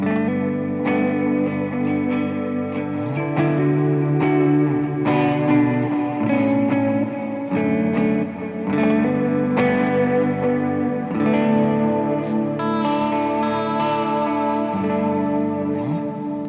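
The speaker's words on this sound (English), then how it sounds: "I'm a sucker for some vibrato, which is this sound right here" Electric guitar playing chords and melody through a warbling vibrato effect, pitch wavering steadily throughout, loud and continuous without talk.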